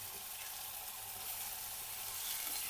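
Banana flower goes into hot spiced oil in a pan and sets off a bright, continuous sizzle that holds steady and close for a few seconds with no talking.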